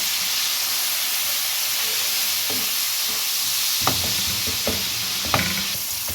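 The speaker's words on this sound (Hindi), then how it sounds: "अब इसको इसके साथ मिक्स कर लें और भून लें।" Spices sizzle and fry steadily in a pan for aloo karela, with a constant loud hiss and a few clanking stirs of a spoon toward the end.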